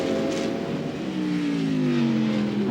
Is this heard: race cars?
yes